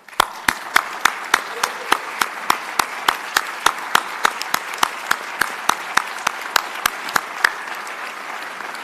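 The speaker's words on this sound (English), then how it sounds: "if the staff from the BPU would stand up to a round of applause as a thank you for all your hard work" A crowd applauds BPU staff at a State of the BPU address given by the governor. Sustained applause fills the room, with one nearby pair of hands striking a sharp, evenly spaced beat through it.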